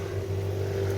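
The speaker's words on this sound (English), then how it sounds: "this exhaust pipe is from Thailand, but it's a replica of the Yoshimura Japanese exhaust pipe. It's absolutely beautiful and makes an incredible sound" A Kawasaki Ninja 250R street fighter motorcycle runs through a Thai-made replica Yoshimura exhaust, giving a steady, close, humming engine drone with no clear rise in revs.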